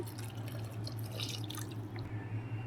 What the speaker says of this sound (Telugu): ఇప్పుడు దీన్ని ఈ వాటర్ అయితే పోసేసుకుందాం